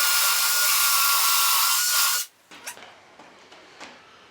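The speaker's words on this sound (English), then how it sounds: "let me drill a final hole here" A drill whines loudly and steadily as it bores a dowel hole into a wooden crown molding piece for about two seconds, then stops, followed by a few light knocks and handling sounds.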